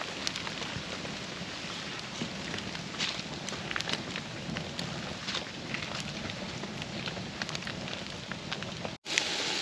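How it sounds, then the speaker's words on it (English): Steady hiss of heavy rain on a tent and campsite during dispersed fall camping in Weiser State Forest, with a roaring campfire crackling beneath it, a dense continuous wash that cuts off briefly near the end. "We got this fire roaring now"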